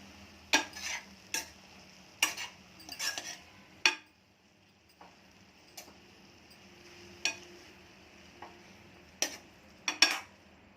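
A spoon stirs fenugreek leaves frying in a pan, giving irregular scraping and clinking strokes, each separate and fairly close, over a soft low sizzle with quiet gaps between them.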